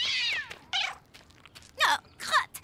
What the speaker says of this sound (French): il y a un chat sur le parcours